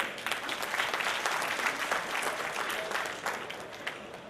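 Audience at a Lions District 3232 J cabinet installation ceremony applauds in a sustained, even burst of many hands, moderately loud and close, with no speech over it.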